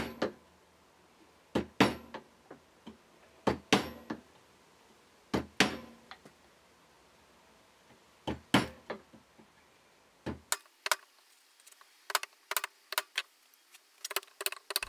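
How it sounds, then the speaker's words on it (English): A chisel striking and cutting along a knife mark in reclaimed wood, with sharp woody knocks and taps in irregular clusters, close and crisp against a quiet workshop. "I can now chisel along the knife mark"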